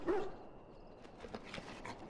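A mabari war hound in Dragon Age: Origins lets out a short, high whimper, then gives softer whines and small yips close by, with no speech over them.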